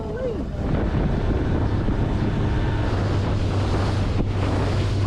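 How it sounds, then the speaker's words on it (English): Strong wind pumps across an ocean bay on Australia's remote west coast, roaring against the microphone over the wash of surf, loud and constant, with a faint voice briefly audible beneath it. "The water's cleaner, the wind's pumping"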